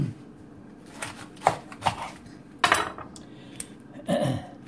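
A kitchen knife slicing an artichoke in half: several separate crunchy cuts and knocks against the board, close and fairly quiet, spread irregularly with short pauses between them.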